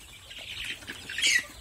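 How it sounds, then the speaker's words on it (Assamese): Broiler chickens on a small village farm of around a hundred mixed-age birds cluck softly at close range, with a brief louder burst of clucking near the end and no talking. "ফাৰ্মখন মুৰ্গী বেছি নাই 100 মান আছে"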